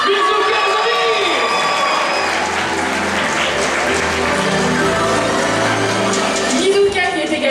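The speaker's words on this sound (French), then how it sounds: "S'il vous plaît, applaudissez très fort Mizuka." A convention audience at a roleplay contest cheers and applauds a guest, steady loud clapping with whoops and shouts throughout, a voice rising briefly over the noise near the start and end.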